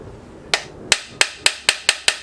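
Seven sharp metallic hammer strikes in a steady, quickening rhythm, each ringing briefly, close up with no talking, driving an oil seal into an ML6C gearbox.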